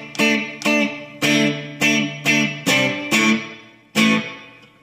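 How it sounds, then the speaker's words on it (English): Electric guitar played through a JHS Alpine reverb pedal set to a springy spring-type reverb: about eight strummed chords in a steady rhythm, each ringing and decaying with a springy tail, loud and close with no talking. "And then with the springy type reverb."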